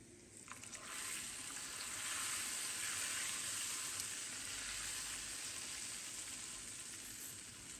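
Hot oil with fried mint and black pepper sizzles steadily as it is poured over Antep-style yuvarlama in a pot, a continuous close crackling hiss that swells after a brief start and holds to the end.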